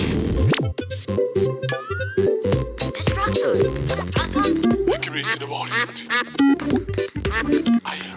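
A cartoon duck quacks repeatedly in a Brazilian Portuguese Pocoyo episode, with bright clinking and dinging effects between the quacks and a narrator speaking over them.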